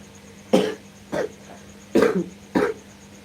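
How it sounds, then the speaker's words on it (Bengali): Four sharp coughs from a sick person, close and fairly loud, spaced irregularly with short quiet gaps between them. "আমার কাশিটা বেশি হয়ে গেছে কাশি প্রচুর কাশি"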